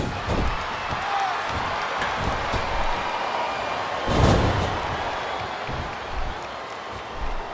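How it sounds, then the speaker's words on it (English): Dense roar of a large wrestling arena crowd during a tag team match, steady cheering and noise with occasional thuds and slams rising briefly in the middle. "Listen to the crowd, JR."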